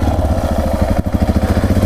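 A Yamaha XT 660R single-cylinder 660 cc motorcycle, a heavy bike of about 200 kilos, chugs with a rapid, even thumping pulse while climbing a single-track trail, loud and close.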